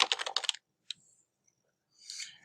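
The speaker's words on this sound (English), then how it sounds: "So I'm going to type in here Atlantic" Quick burst of close typing on a computer keyboard, a short cluster of clicks followed by silence, then another brief softer flurry of keystrokes.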